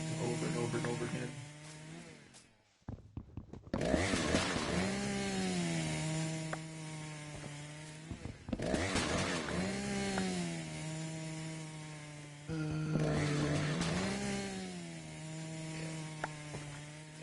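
A chainsaw cuts trees in Minecraft, running in repeated long revving bursts with brief pauses between them, loud and close throughout.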